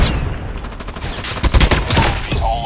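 Rapid automatic gunfire in a Call of Duty style shooter game, bursts of dense cracking shots with a heavier cluster of reports midway, loud and close, with electronic game effects trailing at the end.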